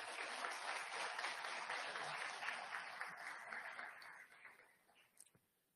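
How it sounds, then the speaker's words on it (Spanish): Audience applauding at a criminal law chamber event, a dense steady clatter of many hands that holds strong for several seconds and then thins out and fades toward the end. "Un aplauso para ustedes"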